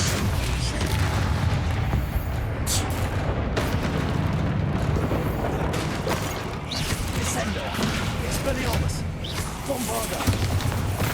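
Bombarda spell explosions go off in Hogwarts Legacy combat as repeated heavy booms and blasts amid a dense, continuous din of battle, with people talking over the action.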